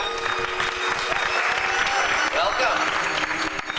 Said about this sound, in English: another round of applause for the second alien.